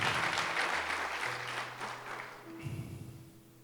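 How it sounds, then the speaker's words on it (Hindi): A church congregation at a Pentecost service claps together in a loud burst that gradually thins out, leaving a low hum and some faint voices. "तालियां बजा देंगे?"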